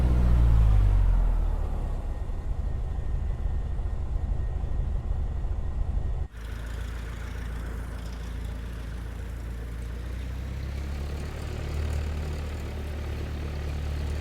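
Cessna 152 engine with the Boris Audio Works sound pack in Microsoft Flight Simulator, settling from a louder throttle setting into a low, steady idling drone, with a sudden drop in tone partway through before the rumble continues evenly.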